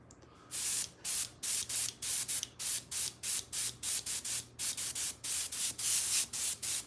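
Rapid, evenly spaced hissing bursts of compressed air from an airbrush, repeated many times in a steady rhythm, close and fairly loud.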